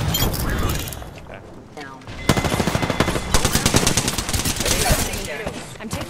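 Rapid automatic gunfire from Apex Legends bursts out in dense, sharp volleys, close and loud, with short pauses between strings of shots and a player talking intermittently underneath.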